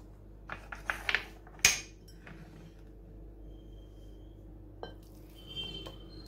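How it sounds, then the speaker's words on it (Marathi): Utensils clink sharply against a bowl a few times as a thick sabudana mixture is transferred, then a soft scrape before things fall quiet with faint later taps. "आता हे एक आपण बाउलमध्ये काढून घेऊया।"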